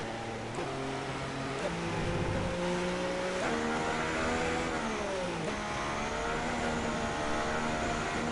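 Haas F1 car engine from the F1 2016 racing game revving high in its power band, a loud continuous whine with pitch climbing and shifting throughout, no speech.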